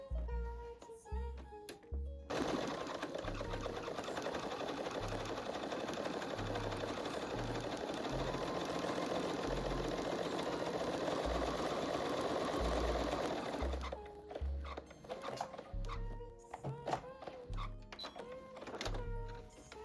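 A sewing machine stitches shirring lines across fabric in one long steady run of rapid mechanical whirring. Shorter start-stop bursts of stitching come before and after it, and there is no talk.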